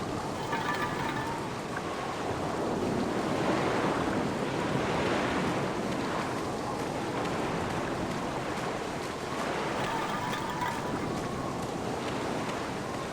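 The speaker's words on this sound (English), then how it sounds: "It's at least 50 feet down, given the reverberation of the waves." Waves crash and surge at the foot of a sea cliff by a lighthouse in the video game Black Mirror, a continuous rolling wash of surf with wind noise, steady and fairly distant, with no voices.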